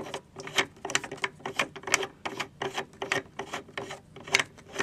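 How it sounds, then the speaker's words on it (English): A powder-through expander die is screwed down into a reloading press, giving a steady run of rasping, grinding scrapes in an even rhythm, close and moderately loud with no speech. "Screw it down until it touches the shell holder"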